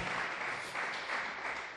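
A church congregation at a prayer service claps in praise, a brief, dense patter of hands, soft and fairly distant, with no voices over it.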